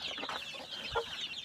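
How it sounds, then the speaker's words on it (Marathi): A mother hen clucks low and soft amid a brood of newly hatched chicks, whose thin, high peeps chirp continuously and overlap; one short low cluck stands out near the middle, all fairly faint and close. "ह्या काल रात्री कोंबडीने पिल्ले काढलेली आहेत."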